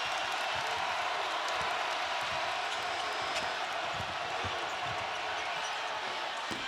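An arena crowd at a Big 12 tournament basketball game between Iowa State and Brigham Young sustains a loud, steady roar, with scattered thuds beneath and faint voices mixed in.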